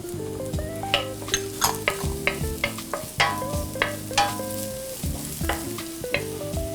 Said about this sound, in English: I just want to saute this till it's nice and fragrant